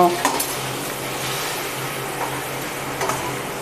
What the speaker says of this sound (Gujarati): તો આપણે તેલ ગરમ થઈ ગયું છે તો પાપડને તળી લેશું ધીમી આંચ ઉપર આપણે પાપડને તળી લેશું